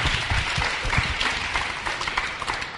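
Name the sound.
audience applause for Tom Otton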